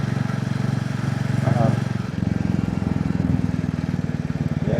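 A motorcycle engine drones steadily while riding, a loud low rhythmic throb that holds throughout, with a brief rise in pitch partway through.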